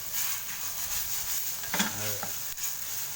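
Shrimp and squid sizzle steadily in a hot wok while being stir-fried for tom yum fried rice, with a continuous hiss and a few scrapes and clanks of the spatula, no talking.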